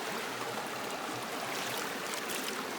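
Water rushing over a gold sluice as it is rinsed during clean-up, a steady broadband wash of flowing water, close and continuous throughout.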